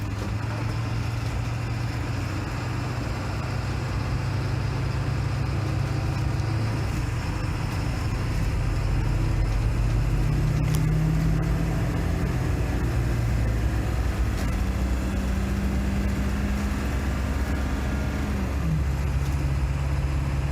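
A shuttle bus converted to an RV, fitted with a brand new muffler, runs its engine in a continuous low, heavy drone whose pitch rises and dips gently, steady and fairly loud throughout.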